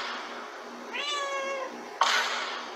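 A house cat meows once in a clear, rising-and-falling call lasting under a second, close and fairly loud, followed by a short sharp noise; no talking.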